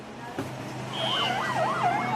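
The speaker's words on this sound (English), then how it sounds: "Pushing through the Brussels traffic, sirens wailing and escorted by a police motorbike, yet another ambulance races to the Saint-Luc hospital" An ambulance escorted by a police motorbike pushes through Brussels traffic, its siren rising and wailing in quick up-and-down sweeps over the rumble of vehicles, moderately near and growing louder.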